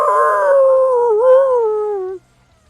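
A blink dog in a tabletop game lets out a single drawn-out howl of pain, loud and close, the pitch sliding slowly downward with a brief wobble before it cuts off abruptly.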